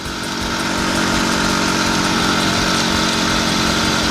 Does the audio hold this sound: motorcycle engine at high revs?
yes